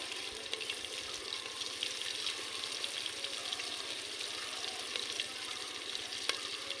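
Mutton curry sizzles steadily in a pan as it is stirred with salt, with a constant close crackle and occasional soft scraping from the stirring, and no voices.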